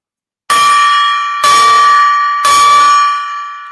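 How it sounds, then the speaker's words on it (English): A golden gong rung three times, each stroke a loud, bright metallic strike about a second apart, ringing out and slowly decaying, heard alone and close. "we are going to ring the golden gong 3 times"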